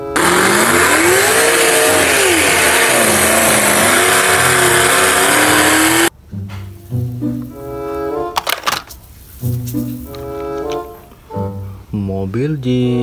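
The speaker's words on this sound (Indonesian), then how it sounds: "Di sini ada mobil off-road." A toy off-road jeep gives a loud, continuous engine rev with wavering pitch for about six seconds, then cuts off abruptly to a quieter stretch with voices and bright tonal sounds.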